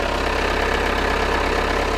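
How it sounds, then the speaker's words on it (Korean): A Jeep Cherokee's diesel engine idles close up, a loud, steady, thick rumble with an even pulsing beat throughout and no speech. "디젤타 특유의 굉장히 굵은 사운드 들으실 수가 있고요"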